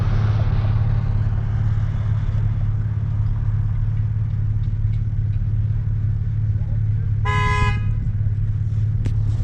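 A car horn gives one short, sharp honk partway through, standing out over the steady low rumble of an idling vehicle on a road near a motocross outing.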